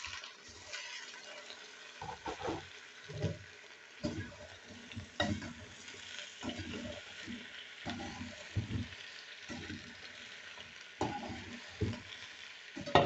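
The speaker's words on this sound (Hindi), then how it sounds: "यहाँ अच्छी तरह इनको हमने भूनना है, आलूओं को प्याज के साथ।" Sliced potatoes fry with onions in a pan, sizzling softly while a spatula stirs and scrapes in irregular bursts, close and fairly quiet throughout.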